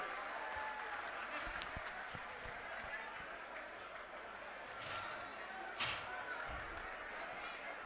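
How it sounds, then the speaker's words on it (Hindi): Loud, steady applause from a large crowd at a political rally at Jantar Mantar fills the whole stretch, a dense wash of clapping with a few sharper bursts near the end. "इनके लिए जोरदार तालियां बजाइएगा"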